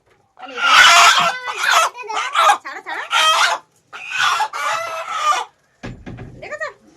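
Free-range village chickens and a rooster cluck and crow in loud, close bursts in a Sundarban farmyard, with short gaps between the calls.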